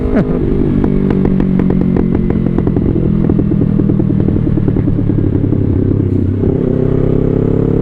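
A Yamaha YZF-R3 sport motorcycle fitted with an aftermarket exhaust idles and revs loudly up close, a steady throbbing engine drone with repeated blips of throttle and rattling mechanical clatter throughout.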